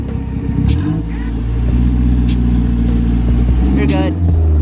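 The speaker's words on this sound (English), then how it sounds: "Rev it for me for a little. Just so the people can hear the" A car with a broken turbo and an open downpipe revs loudly up close, a rough grumbling engine note rising and falling over a steady idle rumble, with sharp rattling clicks above it.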